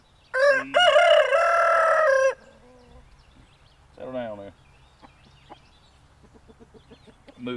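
A rooster crows loudly and close, followed by softer clucks from lavender hens and a brief spoken remark in the background, on a farm.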